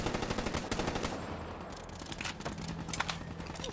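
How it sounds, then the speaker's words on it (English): Suppressing gunfire in the shooter game Call of Duty: Black Ops 3, a rapid stream of automatic rifle shots in dense rattling bursts, loud and close, with overlapping weapons and battle noise. "Give me suppression fire, Dakota."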